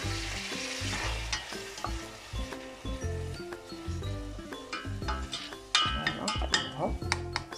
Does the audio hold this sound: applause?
no